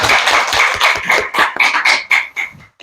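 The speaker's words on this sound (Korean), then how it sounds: "하나님께 영광의 박수 올려드리겠습니다" A congregation at a Sunday church service applauding, a burst of many hands clapping in quick irregular rhythm, close and fairly loud, tapering off after a few seconds.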